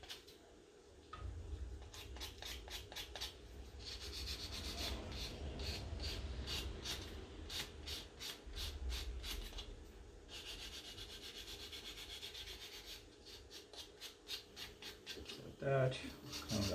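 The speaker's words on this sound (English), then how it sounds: "We just want to sand those off, just so we can actually make this a nice little round piece." Sandpaper rubbed by hand against a small robot model part, quick rhythmic rasping strokes in several bursts with pauses between, close and quiet, with a brief knock near the end.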